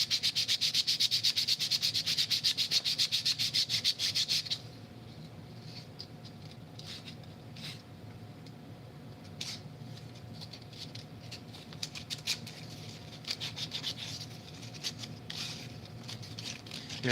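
Sandpaper scratching across a wooden puzzle piece, a dense fast rasping at first, then slower, lighter scratches in irregular bursts, close and dry with no talk.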